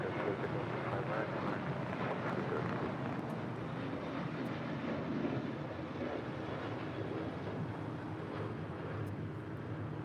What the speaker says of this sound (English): That is Alaska Airlines 1446 departing to Los Cabos on a 737-800.